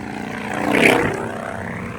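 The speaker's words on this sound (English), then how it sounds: "play gas motor sound while you're riding it" Gas motor engine sound played through the Bluetooth speaker of a Hover-1 Edge electric scooter, a buzzing, droning motor tone that swells to a peak midway and eases off, heard alone without talking.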